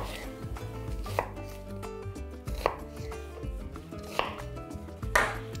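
Knife chopping onions on a board while preparing beef tenderloin kebabs, a quick run of sharp, close, fairly loud cutting strikes with a brief pause between bursts and no talking.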